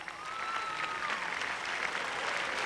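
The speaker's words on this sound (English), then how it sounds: "another round of applause also for Mr." Audience applause fills a Miss Earth 2004 pageant hall, a steady dense clapping wash lasting throughout, loud and continuous with no break.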